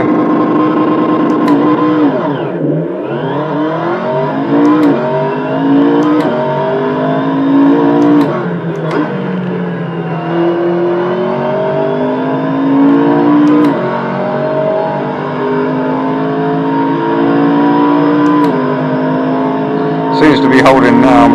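A car engine driving in the racing game Assetto Corsa, played on PC: a steady, loud engine note rises and falls with repeated revving sweeps and gear changes, while someone talks over it.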